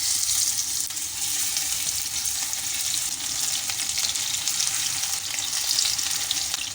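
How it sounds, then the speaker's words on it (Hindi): Fish frying in a pan over medium flame, a steady dense sizzle of hot oil spitting continuously and evenly, close and moderately loud throughout. "अब मैं मछली को फ्राई कर लूँगी।"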